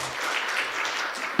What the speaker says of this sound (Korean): 자, 우리 박수 한번 부탁드릴까요?